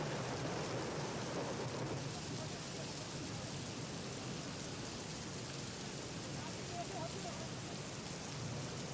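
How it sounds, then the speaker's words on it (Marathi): Heavy monsoon rain pours over the town of Yeola in Nashik, a steady dense wash of broadband noise that holds at an even level throughout with no gaps. "नाशिकच्या येवला शहरामध्ये देखील जोरदार पाऊस झाला आहे"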